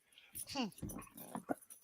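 A dog whimpers and yips at night, a few short high whines and yelps close by, mixed with a voice talking over them.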